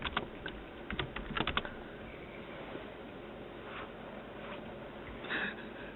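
Quiet keyboard typing, with a quick burst of clustered keystrokes near the start and scattered taps later over a low background hum.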